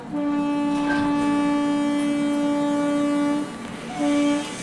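An AC passenger train on the Kundapura to Murudeshwar route sounds its horn as it departs, one long loud tonal blast lasting over three seconds, a brief pause, then a second shorter blast.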